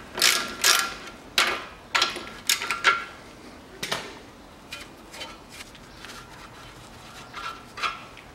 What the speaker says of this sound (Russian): Откручиваю шаровые. Шаровая головка на 16.